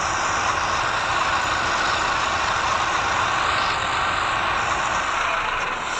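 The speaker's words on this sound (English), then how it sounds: "Now let's listen the engine sound carefully" Renault truck engine in Truckers of Europe 3, running steadily with a continuous broadband drone and a faint whine, loud and unbroken throughout with no voices.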